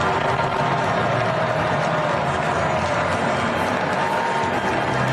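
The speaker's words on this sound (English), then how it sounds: "I hear like booing and cheering" A large baseball crowd at a Phillies game roars continuously, a loud mix of booing and cheering with scattered claps and blaring stadium music, no break in the noise.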